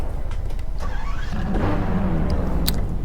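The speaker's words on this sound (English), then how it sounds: "Let's start up the engine" A Porsche 918 Spyder engine starting up in the Test Drive Unlimited 2 racing game, with a brief whirring crank that catches into a steady, fairly loud low idle rumble.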